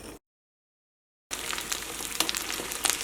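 Chicken pieces fry in hot oil in a pan. A brief moment of silence gives way to a steady, crackling sizzle with sharper pops scattered through it.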